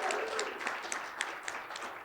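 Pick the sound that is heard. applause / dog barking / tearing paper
applause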